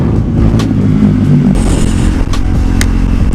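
A Husqvarna Vitpilen 401 motorcycle engine rumbles close and loud, rising in a rev before settling back, with rattling mechanical clatter and no talking.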